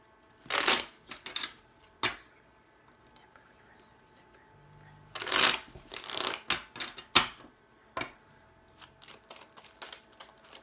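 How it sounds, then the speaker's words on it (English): A deck of oracle cards is shuffled in quick riffled bursts, with the sharpest flurry near the middle, followed by softer flicks and taps as cards are drawn. A soft voice murmurs faintly in places. "2 oracle cards came out, so I'm taking 2 for you"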